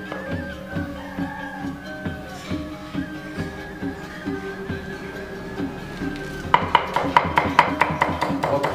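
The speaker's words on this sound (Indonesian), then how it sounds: "sekarang pedas kecilnya kita cincang guys" Small chillies are chopped with a knife on a board for Balinese lawar, first in a steady beat of soft taps and then faster, sharper chopping near the end, with a tonal hum underneath.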